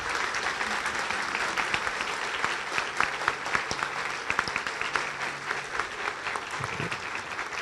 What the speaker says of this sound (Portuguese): Vamos aplaudir essa turma aí